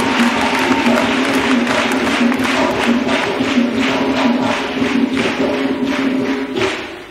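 A church congregation applauds for Jesus Christ during a testimony service, a loud, steady wash of many hands clapping with rhythmic accents, filling the room for several seconds before tapering off.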